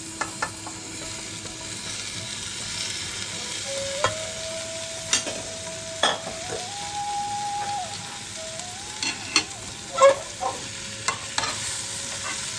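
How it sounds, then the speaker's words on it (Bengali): Boiled giant taro (maan kochu) frying with spices in a pan, a low steady sizzle broken by sharp scraping stirs and occasional clinks, with a faint high tone drifting in the background. "এবার আমি সেদ্ধ করে রাখা মানটা দিয়ে দিচ্ছি।"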